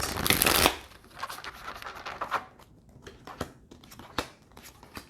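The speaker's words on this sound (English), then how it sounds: "I'm going to shuffle the deck 3 times and pull 3 cards for Strength." Tarot cards are riffled in a quick, crisp burst, followed by softer scattered flicks and taps as the deck is handled and squared up.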